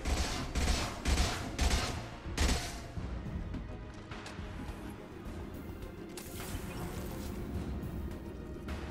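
Heavy gunfire in the video game Mass Effect 2: loud, dense bursts of rapid shots in the first few seconds, then a sustained rattling barrage of weapons fire with crashes and booms underneath.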